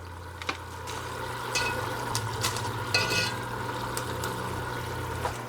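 Three tablespoons of soft unsalted butter go into a hot pan sauce for beef short ribs, giving a low steady sizzle with occasional stirring clinks and scrapes, close and moderate, with no talking.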